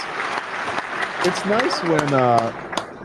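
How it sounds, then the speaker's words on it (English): Baseball crowd in Miami cheering and applauding during a game against the Dodgers, a broad roaring wash of noise with scattered claps running beneath a voice. "This audience is going crazy for you, Mark"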